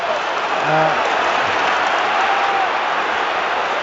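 A frustrated football crowd at Celtic's stadium in Scotland during a match against St. Johnstone, a steady loud broadband roar of many fans filling the whole stretch, with a brief low murmur near the start.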